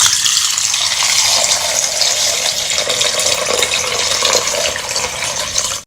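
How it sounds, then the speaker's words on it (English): Cold water gushes steadily from a tap and splashes over fruit in a bowl, a continuous bright rush that holds level for several seconds before cutting off. "Take some cold water and pour over your fruit."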